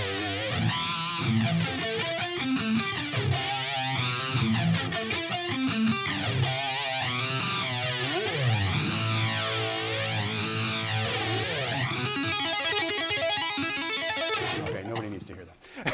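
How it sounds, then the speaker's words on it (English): Electric guitar put through a flanger, its sweeping, whooshing comb-filter swirl rising and falling over sustained distorted chords and notes, played loud and alone for about fifteen seconds. "with some of the effects on it, the flanger."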